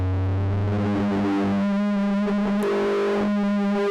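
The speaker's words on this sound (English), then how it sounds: "I'm right now mainly having the distortion stuff interact with the resonance and the LFO" A synthesizer runs through a distortion effect that interacts with its resonance filter and LFO. Buzzy, harmonically rich sustained tones shift and pulse, changing pitch partway through, played alone without talk.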